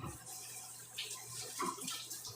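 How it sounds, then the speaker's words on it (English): Water rinses into a pan while gravy is being made, a soft, close splashing trickle that runs on quietly and unevenly. "give that a little rinse right into the pan"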